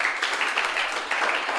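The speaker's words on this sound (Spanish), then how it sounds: "Dar un aplauso al Rey en esta mañana" A church congregation applauds at a morning service, a moderately distant wash of many hands clapping steadily with a brief dip partway through.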